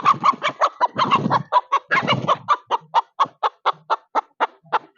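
A chicken at a poultry farm clucks in a steady run of short, sharp calls, close by and fairly loud, with busier overlapping clucking near the start.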